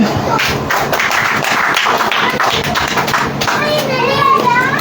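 A congregation claps during a Hindi church worship service, brisk overlapping handclaps with thumps and scattered voices, loud and continuous throughout.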